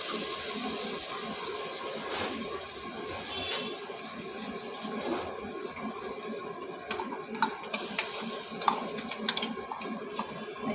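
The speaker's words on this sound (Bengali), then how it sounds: "এখানে যে আমি আদা রসুন লঙ্কার যে পেস্টটা রেডি করেছিলাম সেটা আমি দিয়ে দেবো।" Ginger, garlic and chilli paste sizzling in a pan with fried onions for a Bengali spicy crab dish, a steady close crackle with scattered pops.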